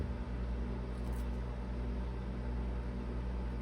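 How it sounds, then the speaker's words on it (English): A microwave oven heats food, its steady close hum and fan drone running unchanged throughout with no talk. "I'm gonna microwave this for about 30 seconds"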